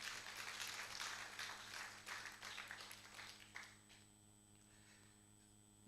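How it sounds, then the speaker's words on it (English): An audience claps at a live university innovation-week event in Kenya, a dense patter of applause that fades out around the midpoint, leaving a steady room hum. "Please, let's clap for them."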